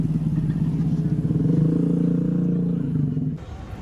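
Big bike motorcycles ride through a Japanese street with a close, throbbing low engine rumble that pulses steadily, then fades as they pull away.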